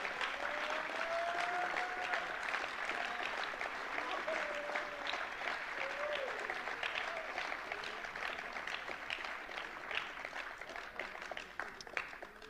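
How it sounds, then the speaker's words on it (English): A sustained round of applause fills a room at a high school football awards night as the coaches stand to be honoured. The dense, steady clapping from a crowd runs throughout with little change, and faint voices sit beneath it. "You guys give these guys a round of applause."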